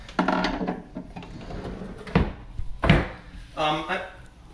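A bottom drawer slides open or shut in a home, with a few short wooden knocks and scrapes close by, mixed in with people talking.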